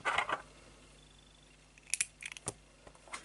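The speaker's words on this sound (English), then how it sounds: "snip off the white yarn" Scissors snipping off white crochet yarn: a faint rustle of handling, then a couple of close, crisp metallic snips and a few small clicks in a quiet room.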